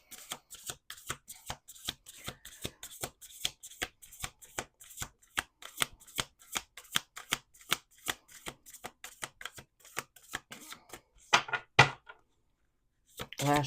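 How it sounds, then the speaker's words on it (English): Tarot cards shuffled by hand in a steady run of crisp riffling flicks, close and fairly quiet, ending in a louder burst of shuffles before a brief pause. "All right, 2 more shuffles."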